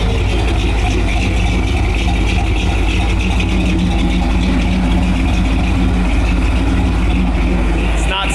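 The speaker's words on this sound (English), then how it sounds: "And we got exhaust. Let's just listen to it." A Ford Bronco engine idles steadily on a cold day with a low, constant rumble from the exhaust, loud and close, with a faint voice briefly underneath.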